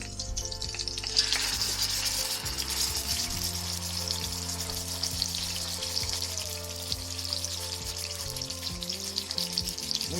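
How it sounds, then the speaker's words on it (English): A pork shoulder, fat cap up, browns in a hot Dutch oven with a loud, continuous crackling sizzle that holds steady from start to finish, with no talking. "We're gonna leave the fat cap up and brown it on this side."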